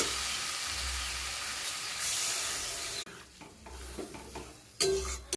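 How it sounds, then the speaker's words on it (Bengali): Water hits a hot pan of fried fish curry, setting off a loud, steady sizzling hiss that suddenly drops to quieter bubbling and occasional stirring scrapes, close up and with no talk. "কষানো হয়ে গেছে, দেখো তেল ছেড়ে গেছে। এবার আমি জল দিয়ে দিই।"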